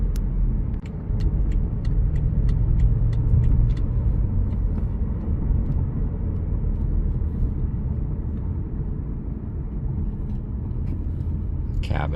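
A 2017 BMW Alpina B6 Gran Coupe drives along with a low steady engine rumble heard from inside the cabin, a string of faint ticks early on and a brief burst of sound near the end.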